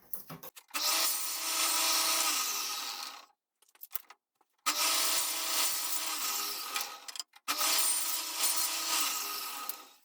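A table saw cuts wood on a sled in three separate passes, each a loud, close, sustained rasping whine that starts abruptly and fades as the blade clears, with short quiet gaps between.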